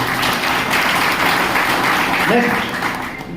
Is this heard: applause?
yes